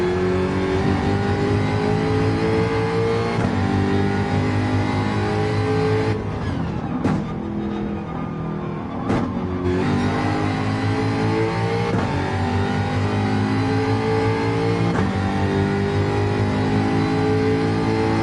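Race car in a racing video game at Brands Hatch, the engine screaming at full throttle with rising gear-by-gear pitch sweeps, two brief lifts around shifts, then flat-out again, loud and close throughout.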